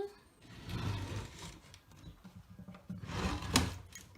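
A wooden baby dresser drawer slides open and shut in a nursery, giving soft rubbing scrapes and a firmer knock near the end, close and moderately quiet with no talking.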